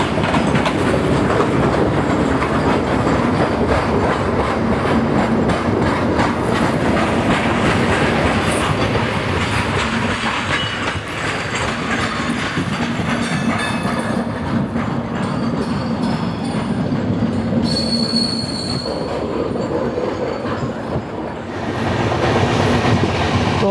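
The Garib Rath Express rumbles along a sharp, near right-angle curve with constant loud wheel and carriage noise. Faint squeals come through the roar later on.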